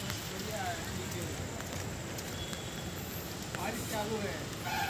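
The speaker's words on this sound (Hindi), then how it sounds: "बारिश थोड़ा से हो रही है" Light evening rain falls steadily in Madhuban, a soft continuous patter and hiss that holds even from start to end, with faint voices mixed in the background.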